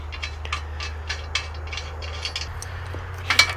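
A nut is tightened on a Harbor Freight bottle jack from an engine hoist, making a series of quick metallic ratchet clicks in irregular bursts, close and fairly quiet over a low hum.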